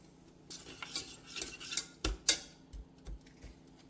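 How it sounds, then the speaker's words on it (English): Butter melting in a pan is whisked, with light irregular metallic taps and scrapes of the whisk against the pan, close but soft, with brief louder knocks. "once the butter melts, I'm gonna go ahead and start mixing"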